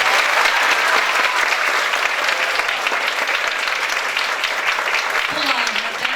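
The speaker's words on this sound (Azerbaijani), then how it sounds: "Bir dənə də müəllimimizi alqışladılar." Sustained audience applause at a music school's year-end report concert, a dense, steady wash of clapping from a crowd that continues unbroken throughout, with a faint voice briefly audible near the end.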